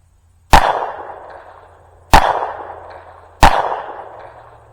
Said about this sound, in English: that was the first series of shots